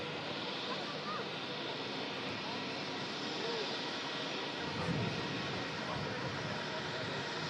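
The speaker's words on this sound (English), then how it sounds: "Two beautiful aircraft making their way out." Two aircraft taxi out at an airport, giving a steady, broad jet-engine roar at moderate distance that stays even throughout, with no other sound rising above it.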